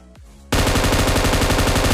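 Automatic gunfire in the battle royale game PUBG, a loud, rapid continuous burst of shots that starts abruptly after a short quiet whoosh and keeps going without a break, no voices.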